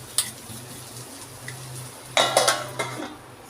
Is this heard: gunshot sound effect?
no